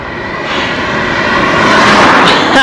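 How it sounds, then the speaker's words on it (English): Strong headwind roaring across a microphone while cycling in Slovenia, a loud, steady broadband rush that swells slightly toward the end, with no talking. "I got a strong headwind!"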